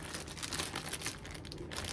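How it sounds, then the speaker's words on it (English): Quiet, steady crinkling of a plastic bag being handled as a greasy dive tank piston is pushed inside, a continuous rustle with small crackling bursts throughout. "get this plastic bag and shove the piston in there"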